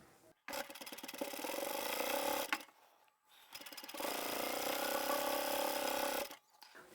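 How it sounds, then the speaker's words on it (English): A sewing machine stitching closed the opening of a fabric lanyard runs in two long, steady, close whirring bursts with a short pause between and near silence at each end. "I'm going to start sewing the opening closed all the way around until I get back to the beginning"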